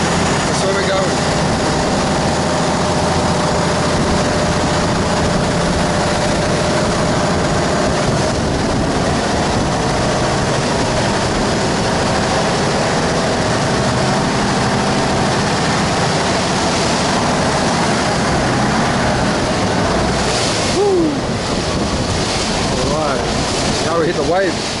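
Steady engine drone of a canal boat moving through Bangkok, with broadband water and wind rush throughout and faint voices underneath; a brief splashy swell near the end.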